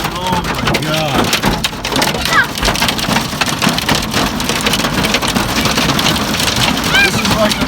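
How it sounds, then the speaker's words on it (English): Hail pelts down hard in a dense, unbroken roar of impacts on a surface during a hailstorm, loud and close, with excited voices calling out over it. "This is like the gnarliest hailstorm I've ever been in."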